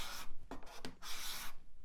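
A card scraper drawn across wood gives a few close, dry rasping strokes, each a short scratchy burst with brief pauses between, and no voices.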